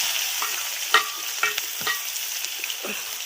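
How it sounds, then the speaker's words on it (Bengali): Two chopped medium onions hiss softly in hot oil in a wok, with a few light clinks and scrapes of a spatula. "কড়াইতে দুটো মাঝারি সাইজের পেঁয়াজ কুচি দিয়ে দিলাম"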